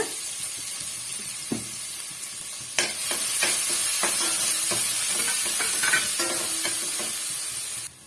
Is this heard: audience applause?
no